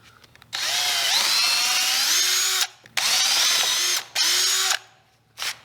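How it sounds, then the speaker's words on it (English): A power drill bores pilot holes through thin plywood in three long, close whining runs that rise and shift in pitch, with short gaps between them and a brief final blip. "I like to drill some pilot holes just so we avoid any possible cracks"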